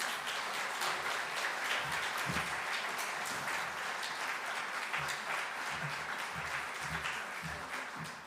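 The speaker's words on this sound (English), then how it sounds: "an applause for yourselves for what you do every day" Audience at a regional volunteering awards ceremony applauds, a long, steady round of many hands clapping in a hall that holds at an even level for about eight seconds before trailing off slightly, with no speech over it.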